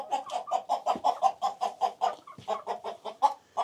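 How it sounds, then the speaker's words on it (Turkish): A flock of about 34 to 38 hens clucks in a village coop in Balıkesir, a steady run of rhythmic, close clucks with no voices. "Vallahi şu anda 34 tane mi 38 tane tavuk var."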